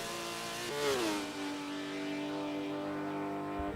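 A race car accelerating onto the track at Bathurst, its engine note climbing quickly and then holding a steady high drone as it pulls away. The engine is moderately loud and heard alone.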